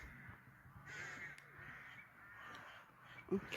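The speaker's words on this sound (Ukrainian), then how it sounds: "І ворони каркають." Crows caw repeatedly in the distance in Yavoriv, Ukraine, harsh calls standing out over a low outdoor hum.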